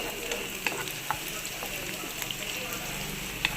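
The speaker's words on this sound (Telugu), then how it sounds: "ఇప్పుడైతే ఫ్రై చేస్తుంది దీన్ని" Green chilies sizzle and crackle steadily in a hot pan with oil, a continuous close frying hiss punctuated by a few sharp pops.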